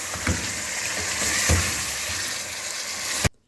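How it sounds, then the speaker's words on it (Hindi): Chicken pieces frying in ginger garlic paste sizzle steadily in a hot pan, a dense continuous crackle with a few soft stirring knocks, ending abruptly. "जब अदरक लहसुन का पेस्ट फ्राई हो जाए फिर आप इसमें चिकन शामिल कर दें और चिकन को भी आपने अच्छी तरह फ्राई कर लेना है"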